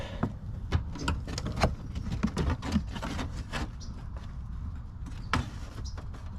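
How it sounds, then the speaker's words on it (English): Plastic fender and bumper pieces on a GMC Sierra pried apart by hand, a close series of irregular clicks, creaks and snapping knocks over a low background rumble, with no talking. "we're going to go ahead and pry these two pieces apart"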